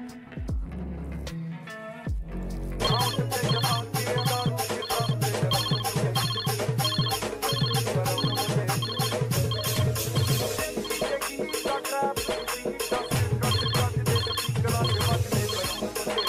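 A mobile phone ringtone plays continuously and loudly, a repeating musical pattern that starts after a brief lower-pitched passage and keeps ringing without any talk over it.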